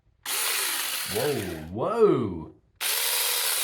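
A battery-powered mini electric chainsaw buzzing near the mic in two bursts, a steady high whir that stops briefly before restarting. A voice exclaims in the gap between the bursts.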